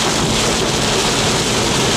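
Heavy rain pours on a car driving south on I-83, a loud, unbroken wash of rushing noise mixed with road roar and wind buffeting, dense and constant throughout.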